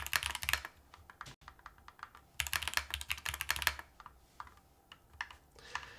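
Mechanical keyboard typing in rapid, clattery bursts of close, crisp keystrokes, stopping briefly between runs.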